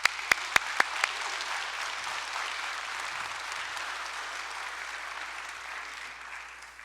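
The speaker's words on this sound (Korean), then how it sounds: "목사님 소개해 드릴 때 힘찬 박수로 환영해 주시기 바랍니다." A church congregation at a Sunday worship service claps loudly and steadily to welcome a preacher, a few sharp isolated claps opening into dense continuous applause that fades toward the end.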